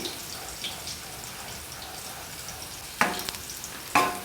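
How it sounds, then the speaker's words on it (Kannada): Onion and curry leaves frying in a pan for a dill leaf and green gram stir-fry, a soft continuous sizzle close by, broken by two louder bursts of spatter or stirring near the end. "ಈರುಳ್ಳಿಯನ್ನು ಹಾಕಿ ಸ್ವಲ್ಪ ಹೊತ್ತು ಫ್ರೈ ಮಾಡಿ ಕರಿಬೇವನ್ನು ಹಾಕಿ"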